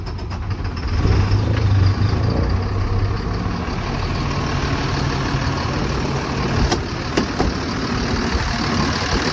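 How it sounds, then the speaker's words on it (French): Truck engine starting and settling into a steady mid-pitched idle, running close and continuous with a slight surge near the start. "Là, je démarre le camion. Je tourne la clé."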